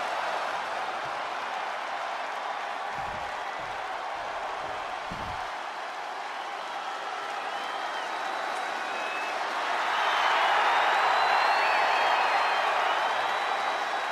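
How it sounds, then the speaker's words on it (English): Student cheering section at a wrestling event cheering and applauding, a broad distant crowd roar that holds steady and swells louder toward the end, with a few dull thumps early on. "the Chase U cheering section is out in full force"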